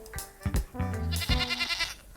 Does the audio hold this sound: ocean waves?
no